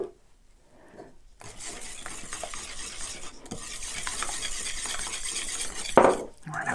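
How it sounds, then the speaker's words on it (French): Eggs being beaten in a bowl for a chocolate and cream cheese cake, a close, continuous whisking and scraping with soft clinks against the bowl that grows slightly louder and ends with a sharper knock. "Et on va bien mélanger."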